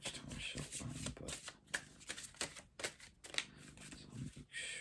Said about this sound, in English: I might take too much time shuffling